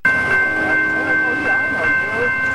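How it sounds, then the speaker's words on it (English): Amtrak Capitol Limited passenger train, train number 30, pulling into the station at South Bend, Indiana: a loud, steady rumble of rolling railcars with a sustained horn-like tone running throughout. "Train number 30, Capital Live, now arriving into South Bend,"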